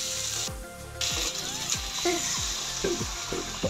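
Vegetable stalks fry and sizzle in a pan for a Bengali fish curry while a metal spatula scrapes and stirs, giving repeated sharp clanks and rasps over a steady hiss, close and fairly loud.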